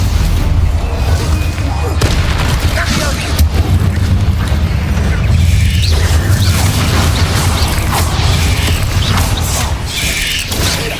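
Explosive spell blasts go off in Hogwarts Legacy, a dense, continuous barrage of booming impacts and crashing effects that holds loud for the whole stretch, with a voice calling out over the fighting.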